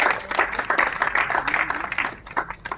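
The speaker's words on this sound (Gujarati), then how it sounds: "પહેલા તો તમે બધા પોતાના માટે તાળીઓ પાડો." An audience at a film event applauds in a dense burst of many hands clapping together. The applause is fairly close and continuous, with no speech over it.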